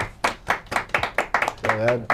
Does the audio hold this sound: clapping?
yes